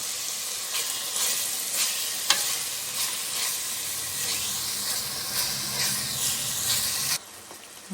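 Tomatoes sizzle steadily in a hot pan while a spoon scrapes and stirs in irregular strokes, then the sizzling abruptly drops quieter near the end, while cooking Karaikudi dum biryani.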